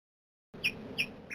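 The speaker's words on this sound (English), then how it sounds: "There's a woodpecker again." Woodpecker pecking wood in the adventure game Shadow of the Comet, set in a forest: two sharp, bright knocks about a third of a second apart, then a third starting, over a low ambient bed after a brief silence.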